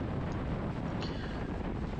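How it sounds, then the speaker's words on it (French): Steady, loud crosswind buffeting the microphone while cycling at 60 km/h in a road race peloton near Ghlin, a continuous broadband roar with no breaks. "On n'a pas vent de dos, on a vent de côté."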